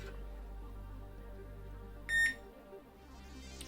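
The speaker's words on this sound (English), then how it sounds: "A short beep can sometimes happen." A single short electronic beep, bright and clear, from a multimeter continuity test on a Radeon R9 280 graphics card, sounds briefly over a low steady hum.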